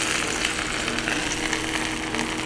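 Food sizzles and crackles steadily in a hot pan, close and fairly loud, with no voices.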